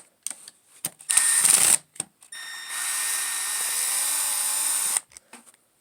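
Impact driver on an Arrma Outcast 8S RC car loosening screws: several short whirring bursts, then a longer steady high-pitched buzz lasting about two seconds, close up, with no talking.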